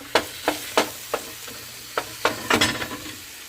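Ground beef for cowboy beef and cabbage with cheese hits a hot pan, with a series of sharp sizzles and stirring scrapes in an uneven rhythm, close and clear with no talking.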